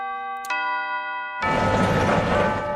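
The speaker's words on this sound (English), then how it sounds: "The bell sounds at the front door." A front-door bell chimes once, a struck tone that rings on with a long sustained decay. A loud, broad rush of other sound then swamps it.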